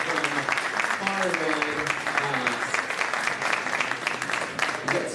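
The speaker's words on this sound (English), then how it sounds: "maybe another round of applause for all these awesome people here" An audience at a pitch competition applauds steadily and fairly loudly, continuous clapping throughout with voices faintly audible underneath.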